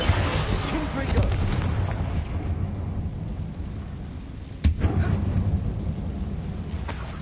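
Explosive spells cast in the game Hogwarts Legacy, heavy rumbling blasts inside a mine tomb, with a deep booming onset, a long rolling decay and a second sharp detonation, under a speaking voice.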